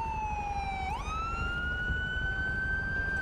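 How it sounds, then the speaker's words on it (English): A police car siren in the LSPDFR video game wails continuously, sweeping down and then rising into a steady high tone, loud and close over faint background rumble. "let's go ahead and turn off our siren"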